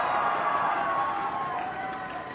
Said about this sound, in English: that is a massive home crowd advantage if I've ever seen one